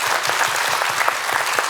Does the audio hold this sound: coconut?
no